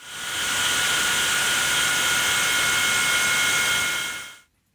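A DeWalt DW717XPS sliding compound mitre saw makes a bevel cut, its motor holding a loud, steady high whine for over four seconds before cutting off abruptly, with no talk.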